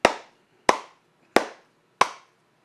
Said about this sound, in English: the thick clap in the background